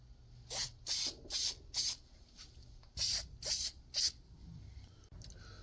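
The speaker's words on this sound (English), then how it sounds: "let's go ahead and spray this piece" Several short hissing spray bursts from an aerosol can of protective clear coat, close by, in a quick series of four, a pause, then three more, with faint background hum.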